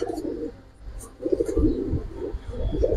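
A pigeon coos in low, soft bursts, a few repeated calls rising and fading close by, with faint chirps and background noise around them.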